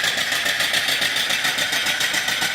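An antique vertical steam engine with a machined build, antique flywheel and oiler runs steadily, giving a continuous hissing, chuffing hum with a fast even pulse, close and fairly loud, with no voices.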